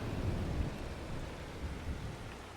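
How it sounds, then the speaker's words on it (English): Steady rain in a farming video game, a continuous low hiss of falling rain with a soft rumbling undertone that holds evenly throughout, with no voices. "we still got about an hour and a half before the rain will stop"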